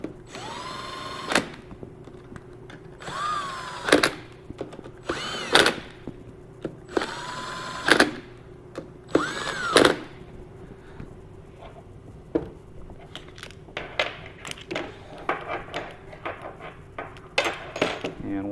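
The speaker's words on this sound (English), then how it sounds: "You're going to use your ratchet and 10 millimeter" A ratchet tightening 10 mm bolts on a Kohler Courage XT-7 small engine during a rebuild gives sharp metallic clicks and clanks in irregular bursts, with brief squeaky tones between them, close by and fairly loud.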